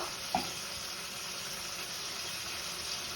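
Tomato and ginger sauté in a pan with a soft, continuous sizzle. A single utensil tap sounds near the start, then the quiet frying hiss carries on alone.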